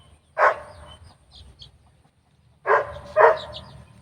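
A serama hen kept with her chick on a rural Philippine farm gives three loud, close clucking calls, one alone and then a quick pair after a pause.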